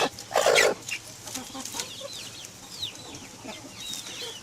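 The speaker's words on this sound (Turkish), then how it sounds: "Tavuğumuzun biri de burada. Yumurtlayacak." A hen clucks close by near her nest in a backyard coop, with a loud burst of clucking early on, then softer scattered clucks and chirps against quiet outdoor background.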